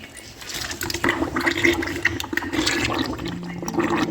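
Air and water gurgling and bubbling through pipes while an underfloor heating system is bled at its manifold, close and continuous with irregular surges, no talking.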